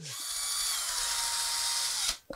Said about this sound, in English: I've got my paint mixing attachment for my drill.